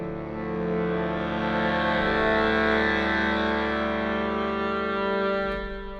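Sustained brass and woodwind chord from the Chronicles Brass and Wood sample library, bathed in convolution reverb, swelling smoothly and holding steady before fading into a lingering reverberant tail.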